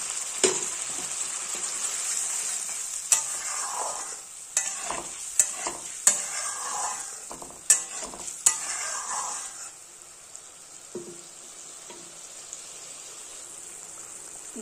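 Masala sautéed for a fish hariyali curry sizzles loudly in a pan as water goes in, a steady hiss with scattered sharp pops and clinks of stirring, easing quieter toward the end.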